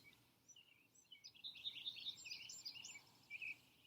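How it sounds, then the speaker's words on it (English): Birds sing at dawn in a faint, high chorus of chirps and twittering calls that thickens and overlaps toward the middle, heard from a distance over quiet background hiss. "the birds are waking. They're singing."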